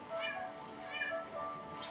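A cat meows a few times indoors, fairly close and clear, with short tonal calls rising over a quiet background.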